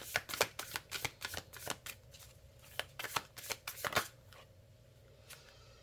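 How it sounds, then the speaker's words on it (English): Cards from an oversized Alice in Wonderland tarot deck are shuffled in quick, crisp riffling bursts for about four seconds, then fall quiet, close and clear with no talking. "Let's see if there's a message in the Alice in Wonderland deck for us."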